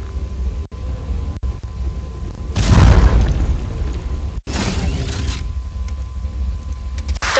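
A heavy mech weapon blast from the Hawken video game, a loud booming burst that swells at about 2.5 seconds and again near 4.5 seconds, set against a steady wash of background game noise.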